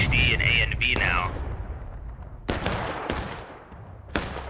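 Video game skirmish gunfire: a few sharp, loud shots and bursts cut through a rumbling battlefield backdrop, spaced irregularly with a gap before later cracks, and a brief whistling tone at the start.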